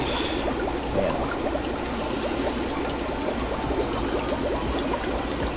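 Steady trickling, streaming water keeps running without a break while a tank is refilled in the fish-farming game Guppy Farm 2; it stays even and moderately loud throughout, with no talk.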